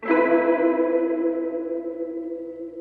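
A single strummed chord on a Lafayette acoustic guitar, played through a stereo-miked Leslie rotating speaker, rings out with a swirling, wavering shimmer, sustaining and slowly fading over a few seconds.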